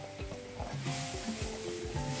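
Shallot curry (theeyal) with ground paste bubbling and sizzling in a pan, a dense continuous simmer with stirring scrapes and clinks of a utensil, close and fairly loud.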